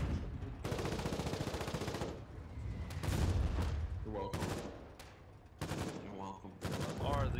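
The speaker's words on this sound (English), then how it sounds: "hit by a gunshot and then a mortar. Takes me out." Gunfire and mortar blasts from the war video game Foxhole come in repeated loud bursts of shots and booms, separated by brief lulls, dense and close throughout.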